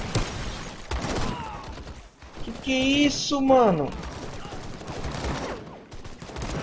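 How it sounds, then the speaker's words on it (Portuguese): Flak anti-aircraft gunfire in the war video game Call to Arms, heard as loud overlapping bursts and shots with whistling tones, mixed under excited talk from a player throughout. "Aquele lá deve ser, acho que é flak"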